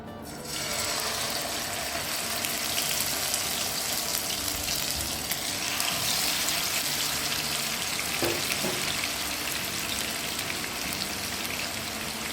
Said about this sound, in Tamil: நம்ம இதில் வந்து ரெண்டு ரெண்டாக சேர்த்து ஃப்ரை பண்ணி எடுத்துக்கலாம்